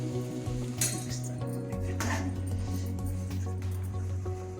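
Mint leaves dry-roasting in a pan for homemade pudina powder, with repeated clinks and scrapes of a spatula against the metal over a steady low hum.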